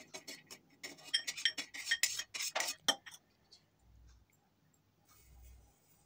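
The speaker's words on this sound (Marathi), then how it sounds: "तर तिथेच मी बदाम टाकलेले आहे भाजण्यासाठी।" Almonds dry-roasting in a pan over low gas heat, stirred with a utensil that clinks and scrapes in quick bursts for about three seconds, then fades to quiet with faint low rumbles.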